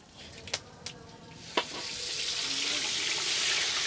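Eight fish heads tipped together into boiling oil over a wood fire: a few sharp clinks, then a broad sizzle rises and holds steady, close and fairly loud.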